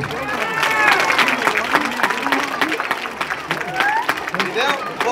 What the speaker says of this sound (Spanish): ¡Aplausos, papás!